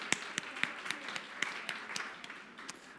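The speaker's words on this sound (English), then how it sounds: "Take some applause." Steady applause from a crowd at a government roundtable conference in Romania, with a few sharper claps standing out over a continuous patter of hands, no voices.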